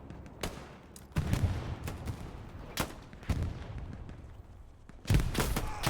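Gunfire in the World War II shooter game Hell Let Loose during a competitive match, with a steady run of sharp distant and mid-range shots over a rumbling battlefield bed and a brief voice.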